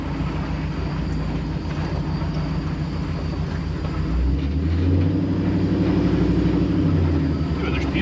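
A 1957 Chevy NASCAR stock car, the Black Widow, rumbles along in low gear with a steady deep engine drone that swells louder midway, heard from inside the car.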